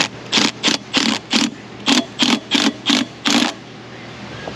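Power tool running in ten quick bursts while tightening throttle body bolts on a 1994-2004 Ford Mustang GT 4.6, each short buzzing pulse evenly spaced and close, with no talking.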